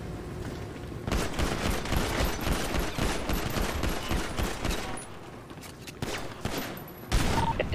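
Heavy bursts of automatic gunfire during a GTA V roleplay shootout, loud, rapid and sustained, with a short pause before a final burst near the end.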